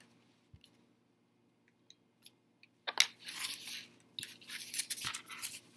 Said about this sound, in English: going to cut out the blade